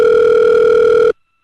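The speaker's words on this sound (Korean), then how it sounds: "전화로 연결해 보겠습니다" Steady telephone dial tone heard while a radio news programme connects a phone call to a guest, one continuous loud tone that cuts off abruptly just after a second.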